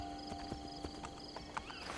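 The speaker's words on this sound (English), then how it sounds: "I hear a horse." Horse hooves clip-clop at a walking pace in Assassin's Creed Brotherhood, a soft irregular series of hoof taps over a steady game ambience, moderately faint and without talk.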